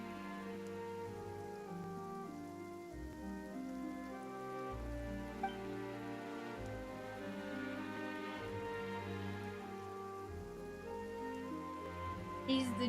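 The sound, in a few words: rain falling in the video game Genshin Impact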